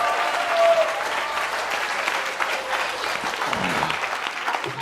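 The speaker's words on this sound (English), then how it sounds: "give a round of applause for that," Audience applause fills a hall at a Rutgers Faraday Christmas children's science lecture, steady dense clapping from a large crowd lasting throughout at even loudness.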